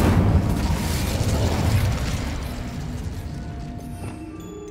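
Casting the Incendio fire spell in Hogwarts Legacy produces a loud, deep whooshing burst that rumbles and slowly fades, ending in a faint magical shimmer.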